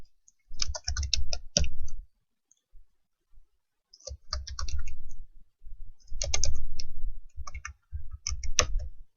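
Typing on a computer keyboard in bursts of rapid key clicks, close and fairly clear, with short pauses between runs of keystrokes and no talk.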